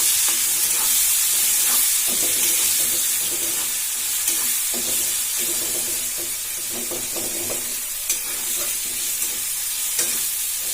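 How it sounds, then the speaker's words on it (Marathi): Tomatoes stirred and cooked in a hot pan while making poha, producing a continuous sizzle with scraping stirs and soft clinks repeating throughout, close and steady with no voices. "आता टोमॅटो मिक्स करूया"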